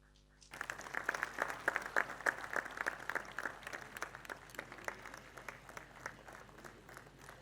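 An audience at a skill award ceremony breaks into dense, steady applause that starts abruptly and eases slightly over several seconds, with no speech over it.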